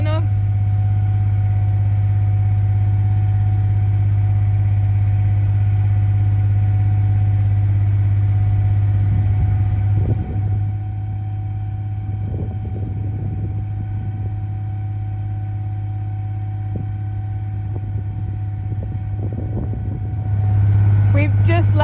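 A narrowboat engine on a river drones steadily and close by in a low, constant hum, while a person talks over it for part of the time.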